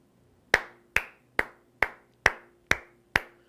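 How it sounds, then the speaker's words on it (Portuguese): Seven sharp single hand claps ring out close and alone in a quiet room, evenly spaced about half a second apart, each with a short decaying tail. "palmas para você"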